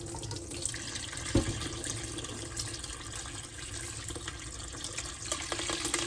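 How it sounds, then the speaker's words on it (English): Water from a pot of cooked peas is drained off past the pot cover into a sink, a steady close splashing and running stream that goes on without a break for several seconds, with no talk. "you put on the pot cover and you drain off the water"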